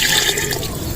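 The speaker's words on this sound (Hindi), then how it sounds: "गोश्त को गलाने के लिए पानी शामिल कर लेंगे" Water poured into a cooking pot of meat for a desi chicken mandi, a steady close splashing rush of liquid with no talk over it.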